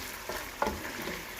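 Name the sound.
food frying in a pan until brown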